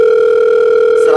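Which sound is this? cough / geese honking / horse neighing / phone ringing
phone ringing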